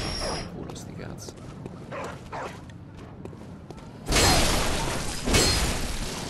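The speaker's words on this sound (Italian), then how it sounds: "sono altri cani anche qua sotto" Dogs bark and yip in the Bloodborne video game, several sharp bursts under steady talk, followed by a louder, noisier stretch of game sound.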